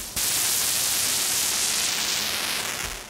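A steady wash of white noise from an Arturia MicroFreak synthesizer starts abruptly and holds loud and even for a few seconds, with nothing else over it.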